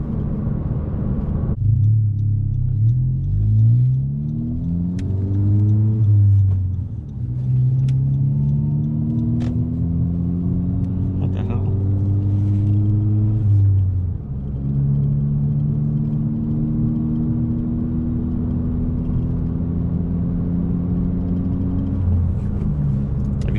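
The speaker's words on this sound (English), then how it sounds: "the exhaust isn't loud, and this is the race version, so it doesn't come with mufflers" Steady exhaust drone and rumble from a 2017 Honda Civic Si fitted with a MAPerformance race exhaust with a resonator and no muffler, heard from inside while driving, with engine pitch rising and shifting through gears, loud and continuous.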